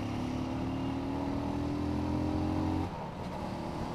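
A Benelli Leoncino 250 motorcycle engine and exhaust hum steadily with a rising pitch as it revs, then drop off near the end into a lower, rougher rumble, heard close and continuous with no talk.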